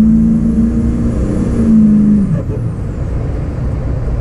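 6.0 Powerstroke diesel pickup truck with an upgraded turbo accelerating on an open road: loud close engine drone with a high turbo whine, the pitch dropping sharply midway before the engine rumbles on.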